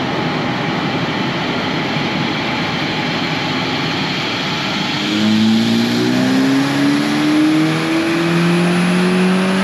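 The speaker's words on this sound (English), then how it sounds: "We're gonna do another pull, this time with no O2 sensor" A turbocharged Toyota 2RZ pickup engine on a dyno, running without its O2 sensor, holds a steady rumble and then climbs into a loud, rising rev for the second half, its pitch sweeping upward close to the microphone.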